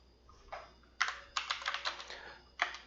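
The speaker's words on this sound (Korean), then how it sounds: "코드를 한번 타이핑을 해보면서 같이 생각을 해볼게요" Code typed on a computer keyboard during a C++ programming lesson: quiet, close key clicks come in uneven bursts with short pauses between them, and no one talks.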